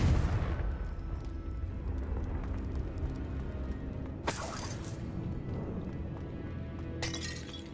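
In the Hogwarts Legacy video game, a Confringo spell explodes with a sharp crack and shattering burst over a deep rumbling game background, and a second bright blast follows near the end.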